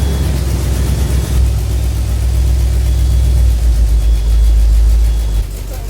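A loud, rumbling Jeep CJ-7 engine with an exhaust leak idles steadily with a rough, puffing exhaust note, close up, then drops off slightly near the end.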